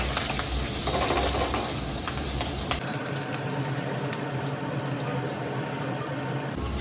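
Green chillies fry in oil with spice powder in a pan for a crab fry, a loud steady sizzle that settles slightly after a few seconds, with faint stirring.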